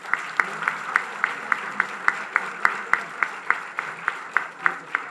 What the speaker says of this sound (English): A standing ovation with loud applause to Madam Governor